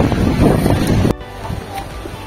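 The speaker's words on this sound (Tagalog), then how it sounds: "Lakas ng snow, lakas ng hangin." Strong wind driving snow in Hokkaido, Japan, buffets the microphone with a loud, rough roar that drops abruptly to a quieter, steady gusting rush partway through.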